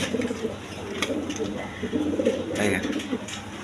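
A pair of blue bar Lahori pigeons, a male and a female, coo softly and repeatedly at close range over a steady background of other birds, with some human voice mixed in.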